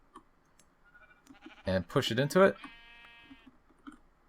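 A sheep bleats in Minecraft, a short wavering cry with harmonics coming right after someone speaks, with faint game clicks around it.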